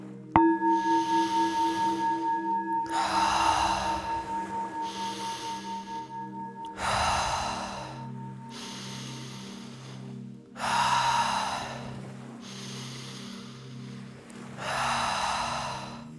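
Deep conscious breathwork: long, slow breaths, each inhale and exhale a broad airy hiss, repeating about every two seconds over a soft, steady musical drone with a high sustained tone early on, close and unhurried, with no talking.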